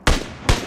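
Two sharp gunshots go off in PUBG on the snowy Vikendi map. Each is a loud, close crack with a quick decaying tail, and the second follows about half a second after the first.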